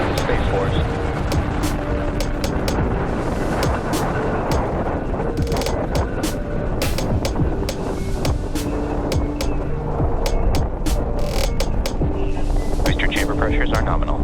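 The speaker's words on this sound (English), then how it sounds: "Engine full power. And liftoff of USSF 67. Go Falcon Heavy." A SpaceX Falcon Heavy rocket lifts off on the USSF-67 mission. A loud, dense roar rumbles continuously without letup, with gusty broadband noise throughout.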